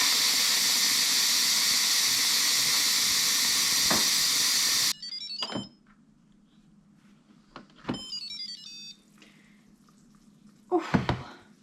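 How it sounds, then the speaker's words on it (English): Steam hisses loudly and steadily from a Midea Instachef pressure cooker being quickly depressurized, then cuts off abruptly, leaving quiet with a few beeps and clicks from the cooker. "So 25 minutes is up, so let's just depressurize quickly."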